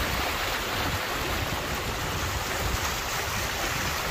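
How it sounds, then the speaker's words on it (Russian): Floodwater rushes like a river through town streets in Anapa, a loud, continuous broadband roar of flowing water with no pauses, close and steady throughout. "То есть текут настоящие реки."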